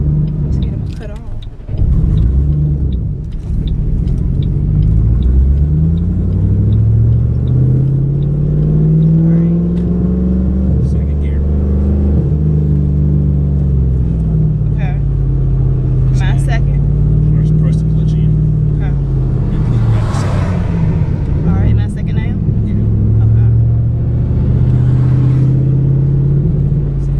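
A manual transmission car eases forward and accelerates, a steady low engine rumble rising and falling in pitch from inside the cabin while people talk over it.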